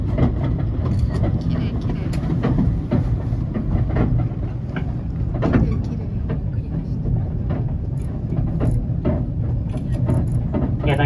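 Kurobe Gorge Railway train rolling along its tracks through autumn scenery, a steady loud rumble with faint rail clatter throughout, and people talking over it.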